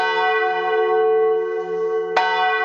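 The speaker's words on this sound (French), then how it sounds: "Donc c'est vraiment une cloche qui a toujours été à Bischofsheim." A church bell cast in 1425, still rung at Bischoffsheim, sounds a sustained, rich harmonic ring that hangs evenly before a fresh strike lands near the end.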